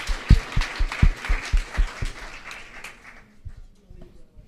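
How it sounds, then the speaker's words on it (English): A hackathon audience in a presentation room gives a team a short burst of hand clapping, sharp and fairly close, that thins out and fades to near silence after about three seconds. "We didn't applaud them, so let's give them an applaud"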